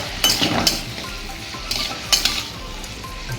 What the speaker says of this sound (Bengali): এবার শিমগুলোকে একটু ওলট পালট করে দেবো